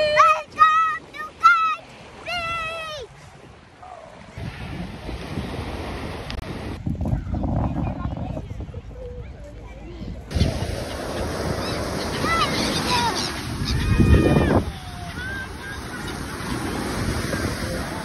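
Waves and wind at Kite Beach in Dubai, a broad rushing surf wash with microphone wind buffeting, preceded by lively voices and cheering and with voices again partway through.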